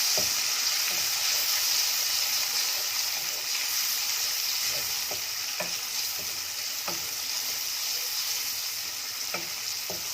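Ginger and garlic fry with cumin in hot oil, a dense steady sizzle with occasional scraping and stirring clicks from the pan, close and continuous throughout.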